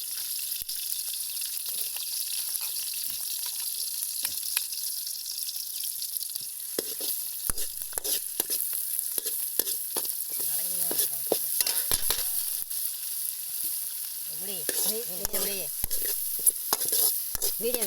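Onions and chillies fry and sizzle in a pan for a village-style fish curry, with steady hissing and intermittent stirring scrapes and clinks, fairly faint and with no voices.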